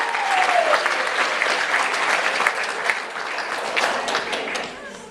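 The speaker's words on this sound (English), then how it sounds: "a big round of applause for" A conference audience at a closing ceremony and awards event breaks into sustained, dense applause for the staff. The clapping stays loud and steady throughout before tapering slightly at the end.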